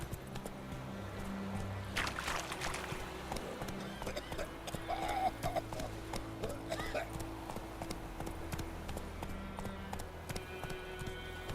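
Galloping hooves from Roach, the horse in The Witcher 3, make a quick, steady clip-clop rhythm throughout, mixed with music and other game sounds. A voice speaks over it.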